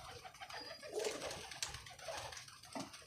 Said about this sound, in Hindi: 12-13 कबूतर पड़े होंगे जो पकड़े हुए मेरे पास